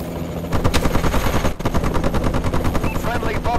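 Warbird aircraft support fire in Call of Duty: Advanced Warfare, loud rapid automatic gunfire bursts over a droning engine, with a brief cut partway through before the firing resumes.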